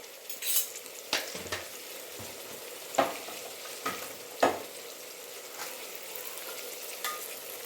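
A spoon stirs chilli powder and black peppercorns into a sizzling aubergine gojju in a pan, with a soft steady fry under repeated scraping strokes and clinks against the pan.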